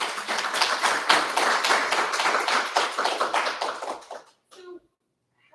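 An audience at a law school Federalist Society debate applauds with brisk, dense hand clapping that holds steady for about four seconds, then fades out abruptly into near silence.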